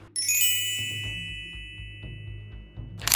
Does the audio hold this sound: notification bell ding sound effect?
yes